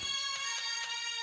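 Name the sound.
phone ringtone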